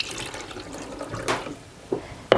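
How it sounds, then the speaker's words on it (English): Rinse water drains off freshly churned homemade butter, a soft trickle and pour followed by a few brief splashy sloshes, close and fairly loud. "Just drain that water off like we did the buttermilk"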